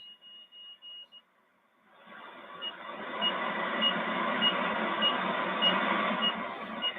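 A faint CW Morse signal received on a shortwave radio in lower sideband. A thin tone pulses briefly, then a wash of static hiss rises, with short tone beeps repeating at an even pace through the noise.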